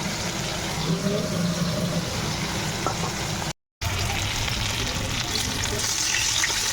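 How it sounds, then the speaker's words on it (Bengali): Large pieces of fish fry in hot oil in a pan, giving a steady, close, dense sizzle and crackle throughout, broken only by a split-second gap. "তখন ভাজা যাচ্ছে"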